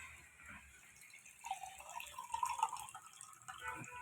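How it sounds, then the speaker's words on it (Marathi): Water runs faintly into a glass at a kitchen counter. A soft, uneven trickle rises slightly as the glass fills, quiet and close, with no one talking. "आता याच्यामध्ये ना पहिले पाणी टाकूया. ग्लास घेऊन घेऊया. जरा भरून घेऊया ग्लास आपला."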